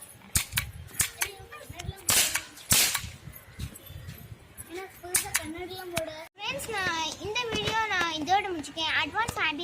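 Sharp cracks from a toy gun firing roll caps for Diwali go off in a quick cluster early and again a few seconds later, with a child and an adult talking throughout and around the shots.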